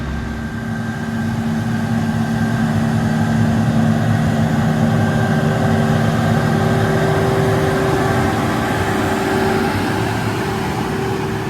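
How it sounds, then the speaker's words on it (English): A 715 horsepower Case IH Steiger Quadtrac tractor engine runs steadily throughout, a loud, constant low drone with sustained tonal hum, close by and with no talking. "this new 715 horsepower Case IH STEIGER QUADTRAC tractor"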